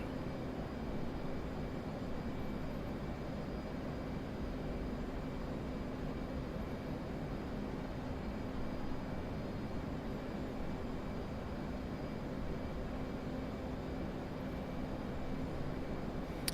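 A steady, broadband roar of an aircraft in flight inside a flight simulation video game, constant and fairly faint throughout with no talk.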